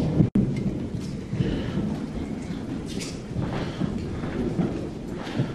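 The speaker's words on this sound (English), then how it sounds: "You hear that nice thunder?" Thunder rumbles and rolls low during a thunderstorm at an old house at night. A sharp crack comes at the start, then a steady rumbling wash continues with quiet voices faintly underneath.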